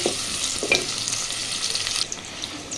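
Chopped onion and a bay leaf frying in hot oil for moong dal, a steady bright sizzle with a few soft stirring scrapes, close and continuous with no talking.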